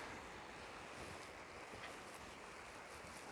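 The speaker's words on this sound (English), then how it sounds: "Waves lapping the shore." Calm winter sea waves lapping the wet sand of a beach in late January, a soft continuous wash mixed with faint wind buffeting on the microphone, quiet and steady, no voices.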